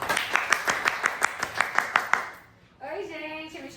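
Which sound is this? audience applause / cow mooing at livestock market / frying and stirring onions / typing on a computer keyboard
audience applause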